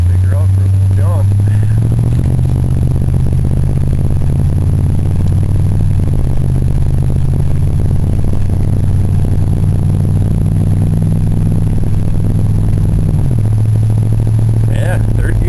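Ford Crown Victoria engine running while driving, a steady low drone from inside the cabin that shifts pitch slightly at a couple of points as it pulls along, continuous throughout.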